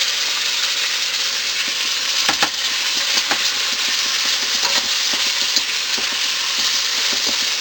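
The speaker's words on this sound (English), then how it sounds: "Now we're going to toss the onions in there" Onions and a shallot sizzle loudly in a hot pan of oil for Filipino pancit bihon, a steady dense hiss with small crackles and pops throughout, close and alone.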